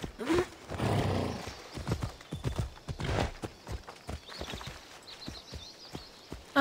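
In Assassin's Creed Odyssey, a summoned horse arrives with a whinny and a run of close hoofbeats, loud at first and then settling into lighter steps as game ambience fills in behind.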